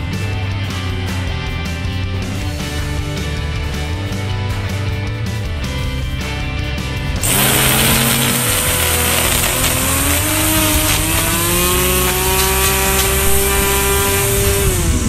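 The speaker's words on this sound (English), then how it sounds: "Just listen to that sound of a powerful, robust 1000W, proudly South African motor just easing its way through the grass." LawnStar Electric 1000W Combi-Cut trimmer with its motor cutting through grass, a loud steady high-pitched whine that rises in pitch and grows louder and brighter halfway through as the line bites into the grass.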